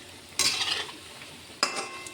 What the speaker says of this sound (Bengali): এইভাবে আমি সব বড়াগুলো ভেজে নেব।